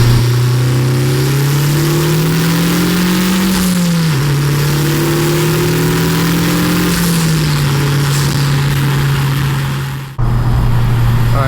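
A 2021 10th-generation Honda Civic Type R engine with a PRL high-volume intake pulls steadily and loudly in third gear, pitch climbing gradually, with a brief drop near the end before resuming.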